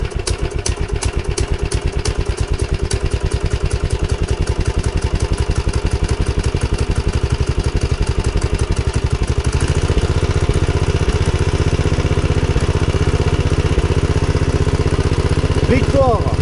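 A 1980s golf mower engine catches and runs with a fast, loud mechanical putter, then settles into a smoother, steady idle for the rest of the run, with no talking.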